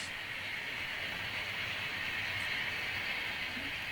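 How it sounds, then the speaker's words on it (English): A freight train of tank cars and box cars rolls by with a steady rushing rumble and hiss, wheels clattering faintly underneath, holding constant throughout. "Another roll-by for that set of tank cars and box cars"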